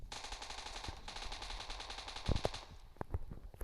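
Gunfire in the mobile game PUBG Mobile: rapid automatic bursts rattle in a fast, even rhythm, followed by a few heavier separate shots and thuds, all at a fairly low level.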